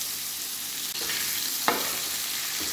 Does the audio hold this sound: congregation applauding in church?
no